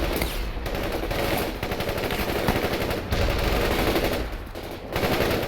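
Sustained machine-gun fire and rattling gunshots from a World in Conflict battle, loud and continuous with brief dips, no talk over it.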